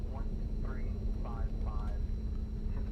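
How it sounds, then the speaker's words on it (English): Thrust reversers roar on an MD-80 in X-Plane 12, a steady, loud low rumble sustained through the landing rollout while someone speaks over it. "Let's just kind of let the reversers do the work."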